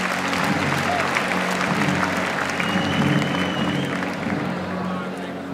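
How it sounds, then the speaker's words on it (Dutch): Spectators in an arena stands applaud as a horse leaves the ring at a horse show, dense clapping and crowd murmur running throughout with a low mechanical hum underneath. "We gaan afscheid nemen van Wieboud 511 met applaus."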